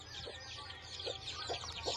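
Hens cluck on a farm in short, repeated bursts close by, with a steady wash of other birds chirping in the background.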